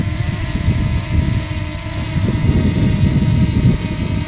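A DJI Mini SE drone hovers in strong wind, its propellers giving a loud, steady buzzing whir mixed with rushing wind noise throughout, with no talk.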